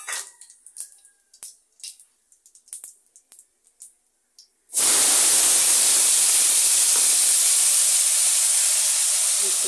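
After a few light clicks and taps, bay leaf and cumin hit hot oil and erupt into a loud, steady, hissing sizzle that continues without pause.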